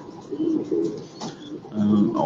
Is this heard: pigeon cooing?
yes